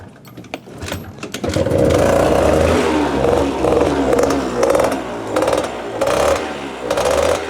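A Gilera Runner 180cc scooter with a badly clogged carburettor cranks, catches and runs at full throttle. The loud engine settles into a rough, pulsing rev with rhythmic surges and clatter, and no one speaks.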